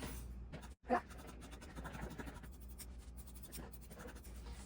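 Scissors snipping around fabric pieces for a cardigan, quiet scratchy cuts in an irregular sequence close by, with a brief sharper snip near the start.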